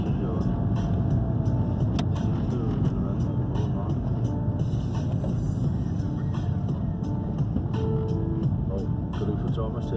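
A car cruises along a country road, with steady broadband road and engine rumble throughout and occasional voices talking inside the cabin.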